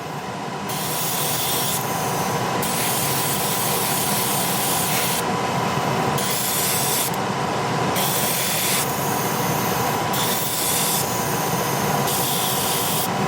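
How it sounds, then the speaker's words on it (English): An airbrush blows air to dry paint on a 1/48 scale M1A2 Abrams tank model, making a steady, close hiss with repeated brief shifts and dips in the airflow throughout, and no voices. "Just giving it a blast of air now to help it dry a little faster."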